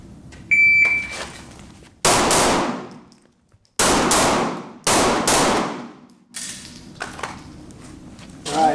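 Handgun shots in a timed close-quarters shooting drill: several loud, sharp reports come in quick bursts with short pauses between them, each ringing out briefly, with a faint beep at the start.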